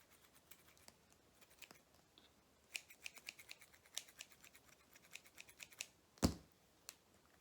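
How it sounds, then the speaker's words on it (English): Scissors snip faintly at a moss pole, a scattered series of small sharp cuts growing busier over several seconds, with one louder clack near the end and no talking. "just take a pair of scissors while I'm waiting on the gun and just kind of trim everything up"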